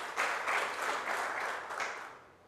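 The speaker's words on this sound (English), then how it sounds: "Big round of applause" A crowd claps and applauds briskly and fairly close, the sound fading slightly toward the end.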